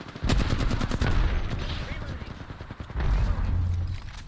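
Rapid bursts of gunfire in a shooter video game with recharging shields, loud and repeated throughout, with a player's voice over parts of it.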